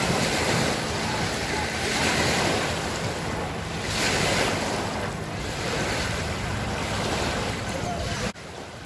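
Ocean waves break continuously on a beach while wind buffets the microphone, making a broad, steady roar with no voices until it cuts off near the end.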